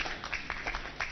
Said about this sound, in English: A round of applause to our moderator.